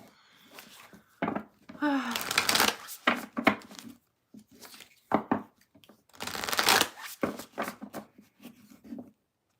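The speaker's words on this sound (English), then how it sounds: "I'm going to move on to Capricorn after I do a little shuffle" Tarot cards being shuffled in repeated bursts of riffling and flicking, fairly close, with short pauses between each shuffle.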